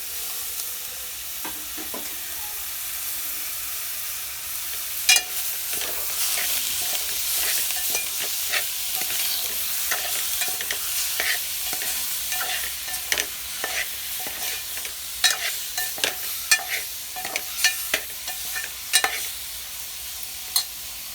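Baby shark pieces sizzle and fry in onion masala in a pan, with a steady close hiss under repeated scraping stirs and clinks of the spoon, and no talking.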